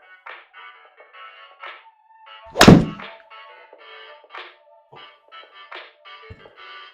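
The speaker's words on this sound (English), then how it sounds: "So here I'm going to demonstrate a few shots on the 3 steps that we've been working on." A single solid thunk of a golf iron striking the ball, loud and close, standing out once over faint intermittent tonal beeps in the background.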